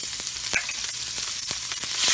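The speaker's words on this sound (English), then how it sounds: "we're going to go to our pan and we're going to add the butter" Butter and olive oil sizzling in a pan, a steady close frying hiss with faint crackles and pops, continuous and fairly loud with no talking.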